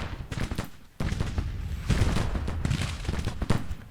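Civil War-era battle sounds from Grand Tactician: The Civil War, with repeated booming artillery shots and crackling volleys in a steady, dense barrage, some blasts louder and closer than others.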